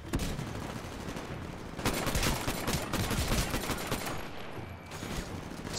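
Rapid automatic gunfire from a weapon in the shooter game Titanfall, dense bursts of shots crackling close and loud with short pauses between volleys.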